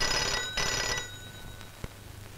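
A telephone bell rings loudly in two bursts indoors during a comic domestic scene, then falls silent and leaves a quiet room with only a faint knock.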